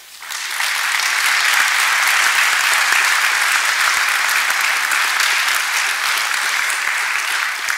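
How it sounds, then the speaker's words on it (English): An audience at a Casimir Pulaski Day event at the Polish Museum in Chicago breaks into sustained, dense applause for Polonia community leaders, loud and steady throughout. "Please give them a round of applause for our leaders of Polonia."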